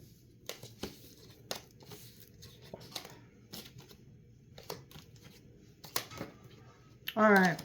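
A deck of playing cards being handled and pulled up, with soft scattered card flicks and rustles and a brief louder riffle burst at the end.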